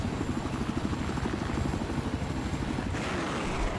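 Z-11W scout helicopter in Battlefield 4 on the Paracel Storm map, its rotor and engine drone running steady and loud throughout, with a brief surge near the end and no talking.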